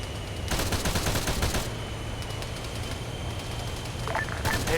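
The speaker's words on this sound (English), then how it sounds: "They're taking GMG fire" Grenade machine gun fire in a military video game: bursts of rapid thudding shots, a dense volley early on, then scattered pops and a fresh burst at the end, moderately loud.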